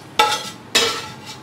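Vegetables dropped into a hot pan with cold rice, two quick scraping, sizzling bursts of stirring, close and fairly loud, with no voices.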